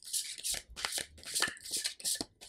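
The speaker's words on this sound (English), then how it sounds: "This deck is becoming a little difficult to shuffle." Cards are shuffled by hand in quick bursts of crisp riffling and flicking, close and fairly quiet, repeating about five times with brief pauses.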